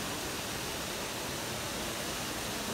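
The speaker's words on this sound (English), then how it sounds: "This is what we call the Philippines waterfalls." Gunhuban Falls in Leyte, Philippines, pours in a loud, unbroken roar of rushing water that fills the short stretch without voices.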